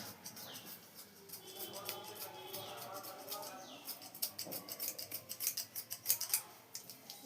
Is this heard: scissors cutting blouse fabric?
yes